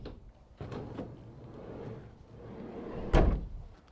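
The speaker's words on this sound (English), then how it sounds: "side loading door" Side loading door of a 2019 Renault Trafic 1.6 dCi SL27 Sport van, a single loud sliding door movement ending in a firm thud near the end, heard close up after quieter handling sounds.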